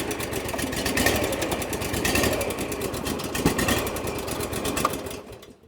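A Ditch Witch trencher with a steering fault has its engine running nearby in a steady, rapid chugging rhythm, with a few sharper knocks before the sound drops away at the end.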